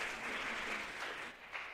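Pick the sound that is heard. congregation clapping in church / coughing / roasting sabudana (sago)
congregation clapping in church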